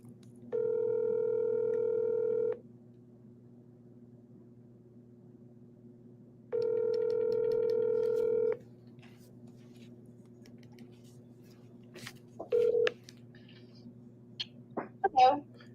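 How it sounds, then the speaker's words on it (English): Telephone call placement: two steady dial-tone bursts of about two seconds each, followed by a few short dialing beeps and clicks near the end, with faint background hum between them. "Let's call his New York number."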